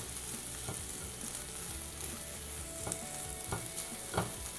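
Egg fried rice with pepper being stirred in a pan, a steady low sizzle broken by several scraping clicks of the spoon against the metal.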